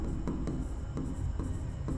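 Pen writing out a maths solution by hand on paper, a steady scratchy scrawl with short strokes and pauses, close and clear with no talking.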